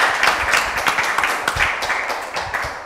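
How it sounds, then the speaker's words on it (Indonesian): Studio audience applause for a guest at an Indonesian music talk show, a lively burst of many hands clapping in a room, steady at first and gradually thinning out over a few seconds. "Tepuk tangannya dulu."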